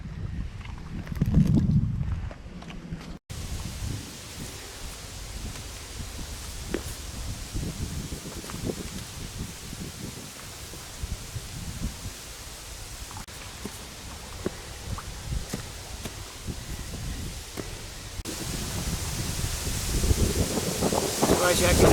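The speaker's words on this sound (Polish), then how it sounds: "Ale ten wiatr mi tu tak przeszkadza dzisiaj" Strong wind buffets the microphone at a fishing spot, a loud continuous roar with gusts swelling near the end and a brief talking voice at the start.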